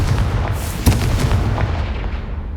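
A Confringo fire spell explodes in Hogwarts Legacy, a loud booming blast with a sharp burst near the start, then a rumbling fiery tail fading over a couple of seconds, no talk.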